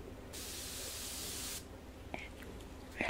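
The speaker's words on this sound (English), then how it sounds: "this is a calming spray." A calming spray from an aerosol can hisses in one continuous burst lasting over a second, then stops, followed by faint soft clicks and handling noises.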